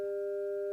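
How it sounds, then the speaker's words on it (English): A pure 400 hertz sine wave tone holds completely steady at even loudness for under a second, alone and with no other sound. "here's 400 hertz"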